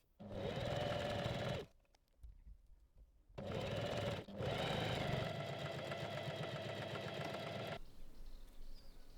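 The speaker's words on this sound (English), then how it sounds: "Lower the presser foot again and sew along the long edge." A sewing machine stitches along the long edge of fabric for a beginner robe, running in three close, even bursts with short quiet pauses between them.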